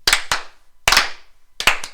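Group clapping over a live video call, three short bursts of a few sharp, ragged claps each, loud and slightly out of sync, with pauses between bursts and no talk.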